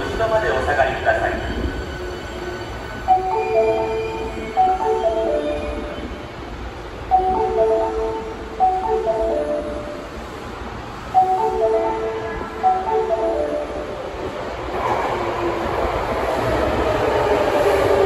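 An Osaka Metro Sakaisuji Line train pulls into the platform at Minami-morimachi station, its rumble and rail noise swelling steadily under a repeating chime melody and a station announcement voice.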